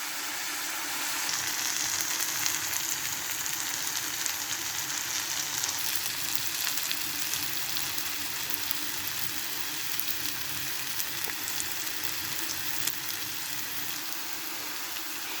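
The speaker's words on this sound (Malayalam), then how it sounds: "ഇനി നമുക്കിത് നല്ലതുപോലെ വഴറ്റാം. ഇളക്കി കൊടുക്കാം." Garlic and curry leaves sauté in a pan for an egg roast, giving a soft, continuous sizzle like light rain with occasional faint stirring.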